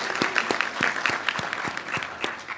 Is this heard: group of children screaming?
no